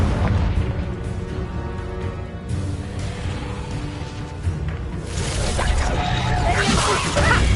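A Confringo fire-blast spell in Hogwarts Legacy, a whooshing surge that swells into a loud blast near the end, with short booming bursts and some speech over the action.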